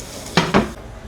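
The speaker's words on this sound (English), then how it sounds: "then we're going to toss it in the bacon grease" Brussels sprouts are tossed in bacon grease in a metal pan, giving two quick scraping clatters about a fifth of a second apart, close by, over a quiet kitchen background with no talk.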